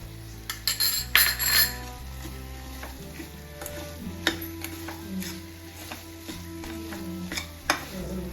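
Coconut laddu mixture stirred in a pan with ghee as it thickens, a soft continuous sizzle with scraping strokes and occasional clinks of the spoon against the pan, close and fairly quiet.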